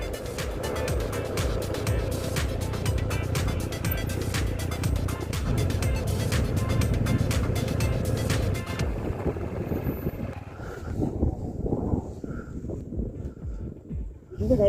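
A vehicle approaches on an unpaved dirt road in the high-altitude Ladakh region near Chushul, its steady engine rumble and road noise loud for several seconds before it drops away into quieter, patchier sound.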